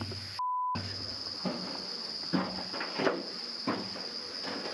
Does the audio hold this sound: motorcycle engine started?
no